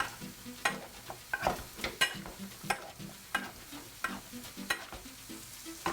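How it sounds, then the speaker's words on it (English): Sweet potato being mashed with a masher in a pot, a run of rhythmic soft squelching presses and knocks, close and moderately loud, with no talking. "And then simply get a masher and"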